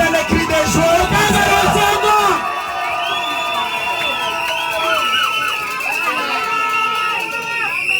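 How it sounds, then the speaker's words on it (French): A wedding congregation bursts into loud crowd shouting and cheering, then settles into high, warbling joyful cries and ululations that continue over a lower hum of voices. "Poussez les cris de joie."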